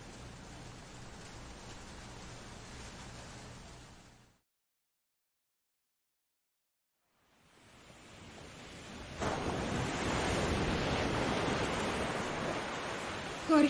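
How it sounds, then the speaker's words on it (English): Ocean waves rushing in The Flower Collectors game, a continuous broadband wash that cuts to silence for a few seconds, then returns louder and heavier. "Jorge, the waves."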